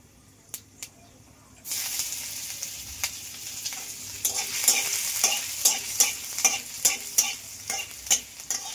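Chopped ginger hits hot oil with panch phoron and bursts into a loud sizzle after a few quiet clicks, then keeps frying with rhythmic stirring strokes pulsing roughly every half second, close by.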